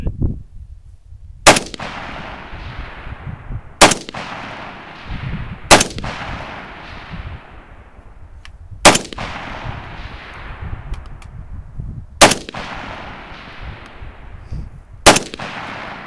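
Rifle shots at an outdoor shooting range: six sharp, loud cracks fired one at a time a couple of seconds apart, each trailing off in a brief echoing decay, with quiet background between them.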